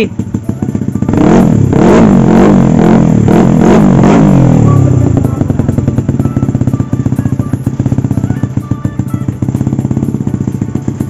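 A 220cc motorcycle engine is revved several times in quick bursts, loud and near, then drops to a steady clattering idle for the rest.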